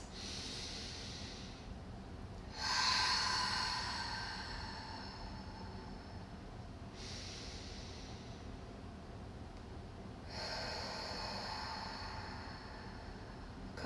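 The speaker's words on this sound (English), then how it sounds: "A few more right here, cleansing breaths." Deep cleansing breaths during a vinyasa yoga session come as long audible exhales through the nose and mouth, three breathy bursts spaced several seconds apart with quiet pauses between.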